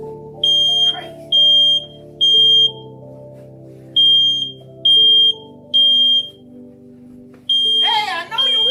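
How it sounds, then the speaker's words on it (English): A smoke alarm at home beeps in seven loud, evenly spaced bursts, each about half a second long, over a low steady hum, with a brief voice near the end. "Hey, I know you hear the smoke alarm."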